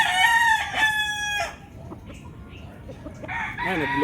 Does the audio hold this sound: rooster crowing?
yes